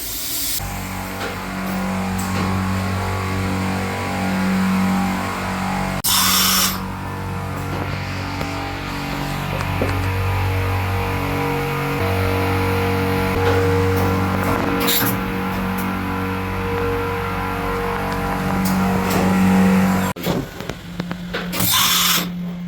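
A MACOTECH MT540 CNC milling machine running, giving a steady, loud mechanical drone with shifting motor tones and several short bursts of hissing noise throughout.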